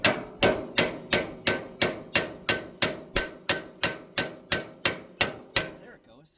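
An improvised tool is used as a hammer on a bike during tire repair, about sixteen sharp, evenly spaced metallic strikes in a steady rhythm, close and loud, stopping just before the end.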